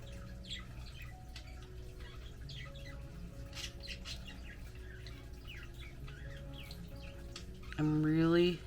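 Pet birds let out a loud squawk near the end of a quiet indoor stretch with faint background noise and scattered chirps.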